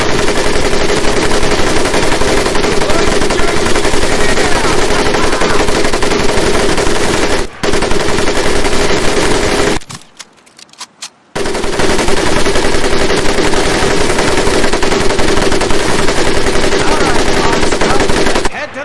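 Sustained machine gun fire in the World War II shooter Medal of Honor Pacific Assault, loud and continuous with one brief pause partway through before the heavy firing resumes.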